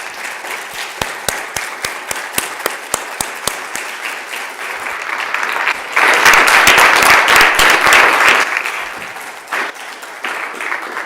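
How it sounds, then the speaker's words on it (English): State Assembly members applaud the chief clerk's staff during a floor session, starting with scattered individual claps that swell into full, loud applause from the chamber before tapering off. "If we could all give them a hand."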